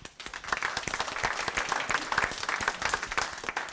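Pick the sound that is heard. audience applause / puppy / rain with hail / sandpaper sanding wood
audience applause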